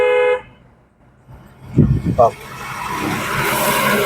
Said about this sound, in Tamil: ஒன் மோர் ஹார்ன் லாங்காக